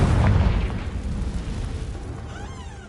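Confringo blasting spell explosion in Hogwarts Legacy, a heavy booming blast at the start with a deep low rumble that decays over a few seconds, followed by faint higher magical whooshing tones near the end.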